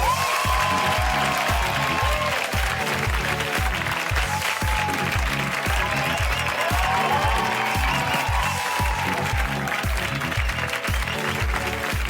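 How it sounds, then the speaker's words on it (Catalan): A studio audience gives a loud welcoming round of applause for guest David Verdaguer, sustained clapping with some rhythmic, beat-like accents underneath, likely music, running the full length. "anem a rebre amb un fort aplaudiment al convidat d'avui, que és ni més ni menys que David Verdaguer"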